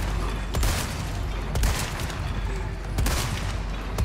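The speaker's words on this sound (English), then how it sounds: "I'm trying to shoot both of you at the same time" Gunfire in the Resident Evil 4 Remake game, several heavy shots cracking out at uneven intervals over a loud, rumbling background of combat noise.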